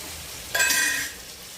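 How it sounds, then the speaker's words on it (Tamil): Vegetables sautéing in a pan for kurma, a brief burst of bright sizzling and stirring that flares up and fades within about half a second. "இது ஒரு 5 நிமிஷம் நல்லா வதங்கட்டும்"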